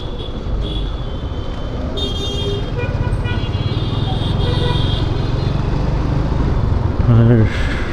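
Dense city road traffic at night in a jam, engines rumbling steadily with horns tooting now and then and a louder honk near the end, close and continuous.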